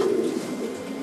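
A racing pigeon gives a low, throaty coo, close and fairly loud, rolling on for about a second with no voices.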